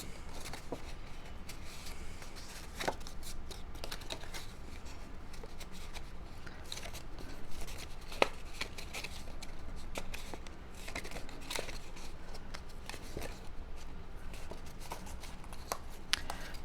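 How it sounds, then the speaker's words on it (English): Quiet crinkles, creases and light taps of a paper Easter basket being folded along its score lines, with scattered small clicks over a faint steady background and no talking. "The basket itself, you want to fold on all the score lines."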